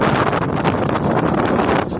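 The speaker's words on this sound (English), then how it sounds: "The entire city is facing heavy rain and heavy gusts of wind." Strong cyclone winds gust through Mumbai during heavy rain, a loud, constant roaring wind buffeting the microphone for about two seconds with no pauses.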